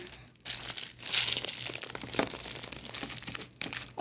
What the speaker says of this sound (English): That's my dad just munching on chips in the background.